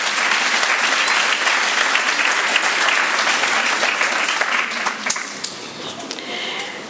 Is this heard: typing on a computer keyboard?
no